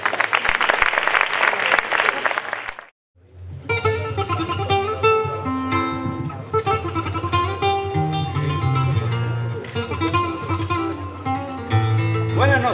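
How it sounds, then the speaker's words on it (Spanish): An audience at a flamenco singing contest finale in Sanlúcar claps for a singer, a dense burst that cuts off abruptly, followed after a brief gap by loud instrumental music. "Un aplauso para Francisco García Escriba"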